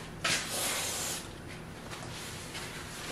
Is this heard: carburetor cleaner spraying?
yes